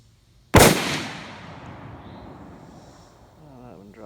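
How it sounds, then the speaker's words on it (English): A single sharp rifle shot from a Mossberg MVP LR in .308 at a shooting bench, loud and close, followed by a long fading echo, with a faint voice starting near the end. "I'm going to take one more shot before I adjust the scope."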